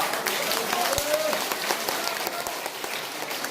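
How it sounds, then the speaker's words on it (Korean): An audience at a political gathering breaks into applause, a continuous crowd clapping with crisp individual claps standing out, fairly loud, with faint voices mixed in. "자, 박수 한 번"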